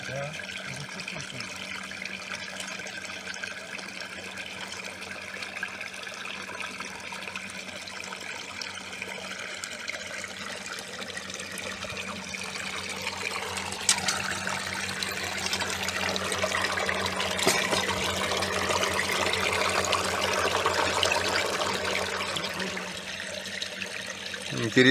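Water jets gushing from a hydro-drilled Abyssinian well on a high hillside, a steady broad rushing hiss with a low hum underneath that swells louder in the second half, continuous throughout.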